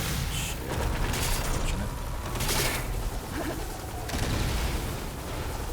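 Rapid bursts of enemy gunfire from machines in Horizon Forbidden West, including a Ravager, crackling in repeated volleys amid a dense, noisy combat mix, with a player talking over it.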